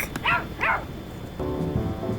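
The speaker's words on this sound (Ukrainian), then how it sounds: "Ой, милий песик." A small dog gives two sharp, close barks in quick succession, then a pause and a thin, drawn-out whining sound.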